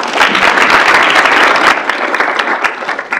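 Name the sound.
audience applause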